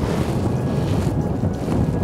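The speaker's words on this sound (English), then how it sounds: "It's too windy today." Strong gusts of wind buffet a microphone outdoors during macro lens shooting, making a steady loud roaring rumble throughout with no talk.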